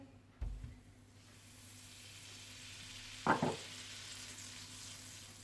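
Soft steady sizzle of butter heating in a pan, with a faint background hiss, a low thump near the start and a brief clatter midway.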